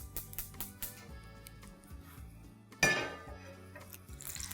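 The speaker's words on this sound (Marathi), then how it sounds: "त्यासाठी मी तवा ठेवते गरम करायला." An iron tawa is set down on a kitchen stove with a single sharp metallic clank midway, amid lighter clinks over a soft musical background.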